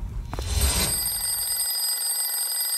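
A telephone rings with a short burst of jangling, then a thin high tone lingers faintly for a couple of seconds afterward.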